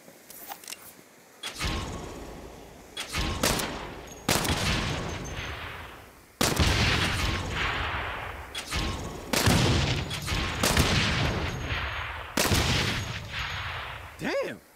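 Gunshots ring out while aiming and firing in the Saints Row video game, loud and spaced at irregular intervals, with a few rapid bursts between them over a background of game ambience.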